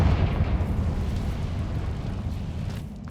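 Confringo fire spell explosion in Hogwarts Legacy, a heavy rumbling blast that starts strong and slowly decays into a low roaring tail, with no talking.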